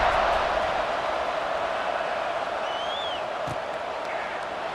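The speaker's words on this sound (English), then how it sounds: "this crowd is buzzing after that last score" Steady crowd murmur from a football video game stadium after a touchdown score, a broad continuous buzz held at even level through the whole stretch with no talk over it.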